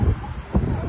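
Wind buffeting a microphone on a terrace at sunset, a low rough rumble across a brief moment with a voice faintly mixed in.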